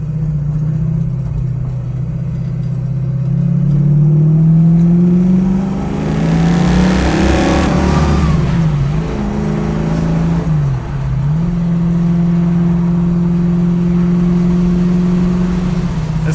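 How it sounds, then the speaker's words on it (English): A 1967 Mustang with a carbureted small-block V8 drives along, its engine droning steadily, then rising in pitch through a rev around the middle before settling back to an even cruising hum, loud and close with no talking. "This carbureted small block is great."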